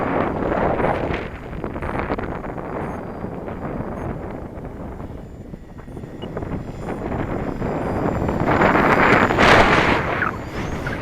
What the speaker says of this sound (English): That gust of wind hit the plane just a couple of split seconds before it hit me.